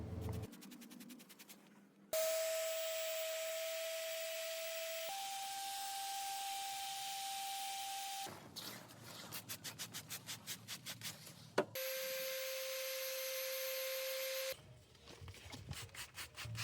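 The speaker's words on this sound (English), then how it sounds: "So now I'm going to wet sand from 800 all the way up to 2500." An epoxy knife handle is wet sanded with fine-grit paper, from 800 up to 2500. Close rhythmic rubbing strokes come in bursts and alternate with stretches of a steady whining tone from running equipment, and no one talks.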